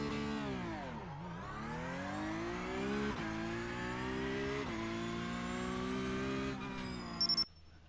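A Porsche Cup race car's engine in the sim game iRacing at Brands Hatch, revving hard off the launch with a steady rising whine broken by quick gear changes, ending in a short high-pitched squeal.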